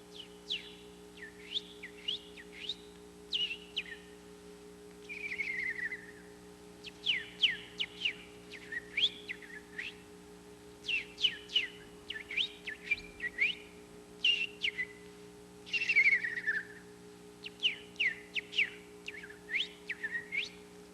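A person whistles a long, varied run of bird calls, quick chirps, trills and warbling phrases in rapid succession, imitating a mockingbird's song, with steady background hum.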